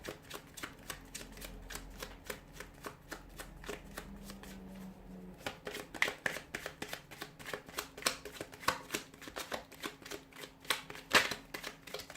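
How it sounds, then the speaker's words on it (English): Tarot cards are shuffled close up, with soft riffling giving way to a rapid run of crisp, flicking slaps and snaps. "give the cards a shuffle here"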